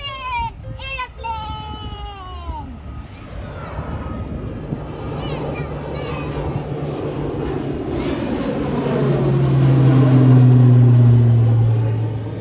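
An aeroplane passes over a country park, its low engine rumble building steadily to a loud, broad roar near the end, with children's voices and family chatter heard early on.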